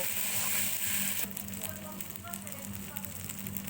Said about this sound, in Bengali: মাংসটা দিয়ে দেওয়া হলো, এবার ভালো করে কষা হবে